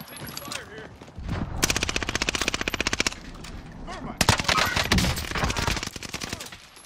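Rapid automatic gunfire in Call of Duty: Warzone on the Caldera map, two long sustained bursts of fast cracking shots separated by a short pause, loud and close, with brief talk in between.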